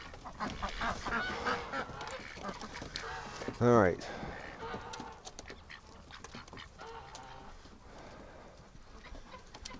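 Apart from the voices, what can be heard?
ducks and geese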